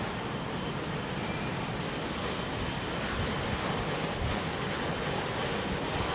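Airliner taking off at London Heathrow in Storm Franklin's strong gusting wind: a loud, steady broadband roar of jet engines and wind that holds without a break for the whole stretch.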